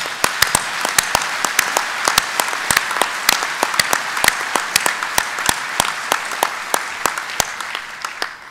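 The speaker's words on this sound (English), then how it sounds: "I would like you to give yourselves a round of applause" Audience applause for UKIP members at a party conference, with clearly separated claps forming a steady, moderately loud patter that holds for the whole stretch and is not joined by talk.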